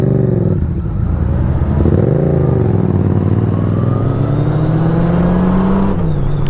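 A Honda Goldwing trike engine drones loudly and steadily while riding, its pitch rising and easing with throttle changes over a constant rush of wind.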